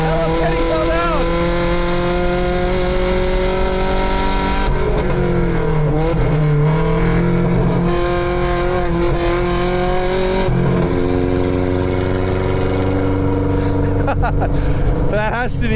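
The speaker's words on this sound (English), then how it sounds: "drive a drift truck with 100 horsepower in cold weather on all-season tires and try to turn a hot lap in it" A 100-horsepower Datsun drift truck on all-season tires in cold weather runs a hot lap, its engine droning loudly and steadily with pitch rising and falling through revs and shifts while voices talk over it.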